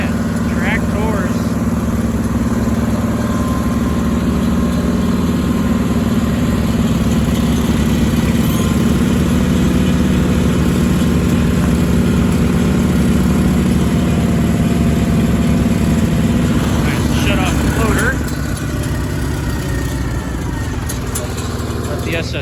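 A Sears Suburban SS16 garden tractor engine runs steadily nearby for a sustained stretch, a loud, even mid-pitched drone that eases slightly near the end.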